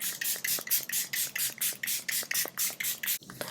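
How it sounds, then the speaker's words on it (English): Charlotte Tilbury setting spray misted onto a face in a run of quick, close hissing pumps, about a dozen short bursts in steady rhythm, loud and near with no talking. "I'm going to use my Charlotte Tilbury setting spray."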